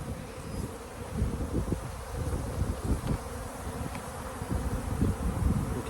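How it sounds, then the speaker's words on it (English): A dense, steady buzzing of a honeybee swarm surrounds the listener, continuous and close, rising and falling slightly in intensity with no talking. "Let's go into the middle of the swarm."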